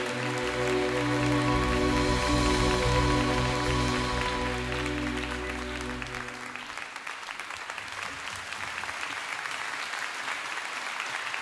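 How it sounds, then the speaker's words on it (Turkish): Live song ending with a full tonal band, then a dense, loud wash of audience applause taking over and continuing steadily to the end. "Çok teşekkürler güzel alkışlarınız için."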